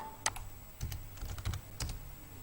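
A computer keyboard being typed on to enter an nmap network-scan command in Kali Linux, with irregular clusters of soft keystroke clicks, close and quiet, with no talking.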